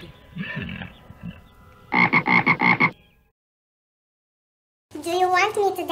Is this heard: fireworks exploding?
no